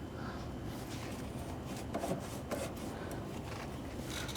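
Brushing rocks and desert grit out of the suspension of a Porsche 987.2, a steady close scrubbing rasp with a few louder scraping strokes near the middle.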